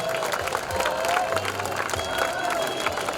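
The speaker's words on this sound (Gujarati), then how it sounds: "જોરદાર તાળીઓથી એમને વધાવીશું." Audience at a school function applauding steadily, a dense, even wash of clapping from a crowd with some cheering mixed in.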